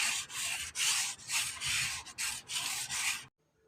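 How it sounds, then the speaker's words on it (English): Sandpaper rubs along the grain of wooden furniture with a rounded edge, making close, light back-and-forth strokes in a steady rhythm of about nine passes, then stopping abruptly. "So sand in the direction of the lines and make sure you don't use too much pressure"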